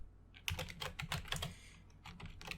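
Fast, steady typing on a computer keyboard, with dense close keystrokes running throughout and no one speaking.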